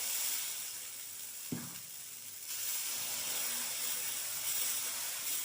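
Thin rice-based dosa batter hitting a hot stone griddle over low flame, a bright steady sizzle and hiss that jumps up with a soft splat of pouring and then carries on evenly, close and fairly loud, with no talking.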